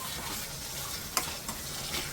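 Garlic chutney fries in hot oil with a soft, continuous sizzle and faint crackles, plus an occasional stirring scrape, quiet and close with no voices.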